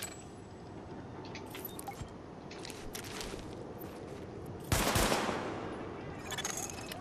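Gunfire at highlighted targets during a sidearm weapon test in the video game Tom Clancy's The Division: a steady run of sharp shots with a louder burst near the end, no talking.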